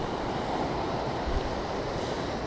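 Avalanche Creek rushing along the Trail of the Cedars in Glacier National Park, a constant loud broadband roar of flowing water with light wind buffeting and no talking.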